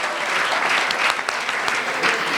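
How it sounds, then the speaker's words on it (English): A marketing awards night crowd in Nairobi breaks into applause, a thick, even roar of clapping hands that lasts the whole short moment. "A big hand clap for Mr. Kariuki"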